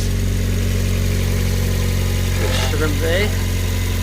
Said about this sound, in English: We're now going to start the car. Engine running.